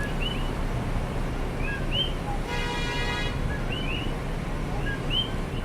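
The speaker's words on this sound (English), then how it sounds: "it's not a bird. It's a frog, a coqui frog." Coqui frogs call repeatedly across a Hawaiian night, short two-note chirps scattered near and far over a steady hum of background noise.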